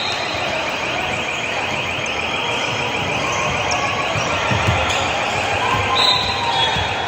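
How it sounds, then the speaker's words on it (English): An emergency exit alarm rings continuously during a 12u volleyball match, a loud, steady pulsing tone over gym noise and faint crowd chatter. "Hear someone set off the emergency alarm exit."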